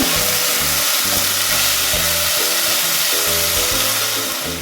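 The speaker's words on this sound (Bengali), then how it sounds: "আমি একটা তেজপাতাও দিয়ে দিলাম খুব ভালো করে আসতে যাতে মশলা কাঁচা গন্ধটা" Spices and a bay leaf fry in hot oil for a Bengali fish curry, giving a loud, continuous sizzle throughout with a faint rhythmic stirring or scraping underneath.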